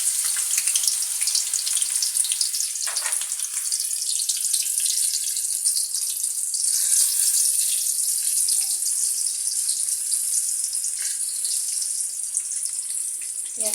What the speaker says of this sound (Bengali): এবার এতে আমি একটু পেঁয়াজ কুচি দিয়ে দিব।